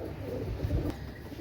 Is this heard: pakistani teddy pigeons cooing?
yes